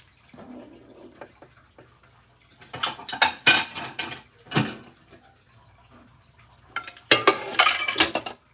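Dishes being washed at a kitchen sink: pots, plates and cutlery clatter and clink in irregular bursts over running water, loud and close, with quieter pauses between.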